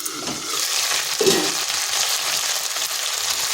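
Pieces of gathi kochu (taro) frying in a pan with turmeric, a soft even sizzle throughout with a brief clatter of stirring near the start.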